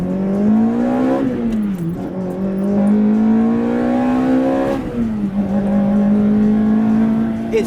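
An old Toyota car is driven hard through turns, its engine note rising and falling as it revs and eases off between corners, loud and steady throughout with no talking.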